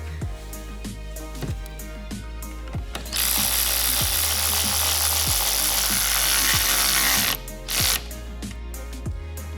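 A hand ratchet clicks in a steady, regular rhythm while screwing a VLAND taillight into a Subaru BRZ, interrupted midway by a few seconds of loud, continuous whirring hiss before the crisp clicking resumes.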